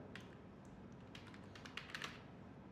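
Soft, quick clicks of a computer keyboard being typed on, faint and close, in short irregular bursts with a few louder keystrokes near the end, over a low background hum and no talking.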